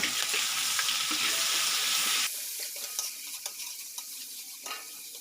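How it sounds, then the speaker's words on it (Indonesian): Spice paste sautéing in a pan for vegetable lodeh, a loud hiss of frying that drops abruptly to a quieter sizzle with soft stirring scrapes, heard close with no talk. "Setelah halus, kita tambahkan bumbu cemplung dan kita tumis sampai harum."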